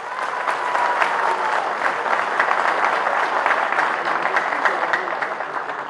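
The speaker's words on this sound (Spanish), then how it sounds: "recibamos con un fuerte aplauso" Sustained applause from a crowd at a Bolivian labour federation event attended by President Luis Arce, dense and steady throughout without a break, with no speech standing out over the clapping.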